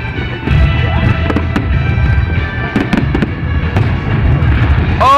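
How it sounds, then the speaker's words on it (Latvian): Fireworks bursting over the Riga city festival, a dense run of loud cracks and booms one after another, with crowd noise and some talk beneath the blasts. "kas ir salūts?"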